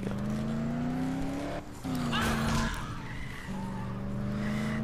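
Car driving in the video game Dead Island, a steady engine drone with tonal tire skidding squeals that break off briefly and resume, loud and close.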